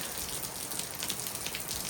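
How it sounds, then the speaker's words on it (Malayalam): Steady soft hiss of rain falling in Finland, a dense patter with faint scattered drops, fairly quiet and continuous with no voices. "ഇപ്പോൾ കാറ്റ് മഴ വലിയ കാറ്റില്ല, നല്ല മഴയൊക്കെ ആയിട്ട്"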